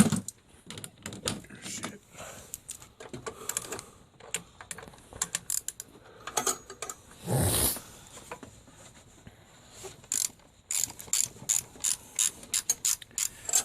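Ratchet wrench clicking in quick bursts while a 13mm bolt on a power steering pump of a Pontiac Grand Am with a GM 3.4L engine is turned, close and fairly loud, with short pauses between strokes.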